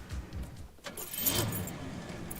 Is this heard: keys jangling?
yes